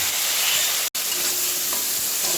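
Vegetables hit a hot kadai after prawns were fried, with five-spice seeds in the oil, giving a steady, close, loud broadband sizzle with a brief dropout near the start.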